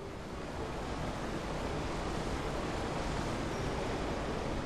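Rushing water draining away in the Resident Evil video game, a steady, loud broadband wash that keeps going without a break and sounds like surf or wind.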